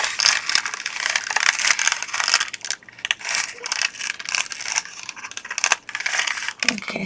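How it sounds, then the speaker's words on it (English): Dried icicle embellishments being peeled one by one off a craft window layout, close crackling and tearing bursts with sharp scraping clicks, irregular and fairly loud throughout. "the icicles are peeling off one at a time"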